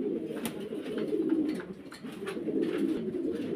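Fancy pigeons, including Jacobins, cooing at a pigeon farm in Faridpur: a low, rolling, throaty coo repeating in waves, close by, with faint sharper sounds in the background.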